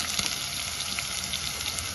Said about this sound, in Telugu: వేగుతుంది.